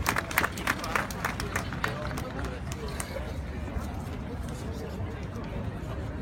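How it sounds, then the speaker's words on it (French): An audience at a gathering against terrorism breaks into applause, with sharp individual claps at first that blend into a steady patter, murmuring crowd voices mixed in. "s'il vous plaît, sous vos applaudissements"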